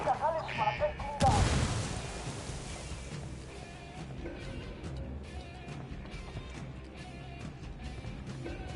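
A frag grenade blast in Ghost Recon Wildlands: a sudden loud boom with a rumbling, rolling tail after a moment of clicks and chatter, followed by lingering low battlefield noise and distant shots.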